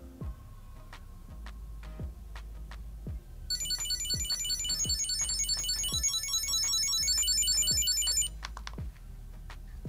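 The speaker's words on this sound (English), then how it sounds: "you can ask your assistant to ring your wallet hands-free" An Ekster smart wallet tracker rings with a bright, rapid electronic trill lasting several seconds, over a low, regular thumping pulse that runs through the whole passage.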